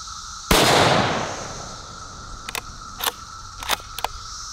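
A cheap .308 bolt-action rifle fires one loud, sharp shot with a long rolling decay outdoors, followed by several short metallic clicks and clacks of the bolt being worked.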